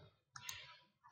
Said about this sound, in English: So I just click anywhere, holding down the mouse